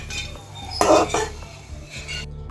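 Ghee-fried dry fruits are scooped out of a kadai onto a plate with a metal spoon, making soft scraping and clinking sounds. One sharper clatter comes midway over a low, steady background.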